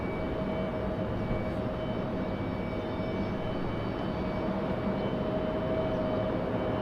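An airplane taking off at Raleigh-Durham International Airport, a steady distant engine roar holding at an even level with a faint tonal whine, no voices.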